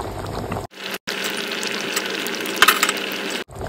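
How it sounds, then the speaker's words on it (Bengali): Bengali fish curry (shol fish jhol with taro and fried lentil dumplings) bubbling in a pot, a steady dense simmering hiss with brief cutouts and a small burst of louder bubbling near the end. "ঝোলটা টকবক করে ফুটে গেছে"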